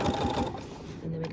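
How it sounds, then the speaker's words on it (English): A sewing machine stitching the side seam of an apron, its steady mechanical hum running close and loud throughout, with a voice talking over it. "we're going to slowly just sew along that line"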